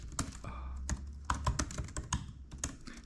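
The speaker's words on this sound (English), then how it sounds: "If I can type." Fingers tap out keystrokes on a computer keyboard at close range, a quick, uneven run of crisp clicks with short pauses between bursts, heard alone without talk.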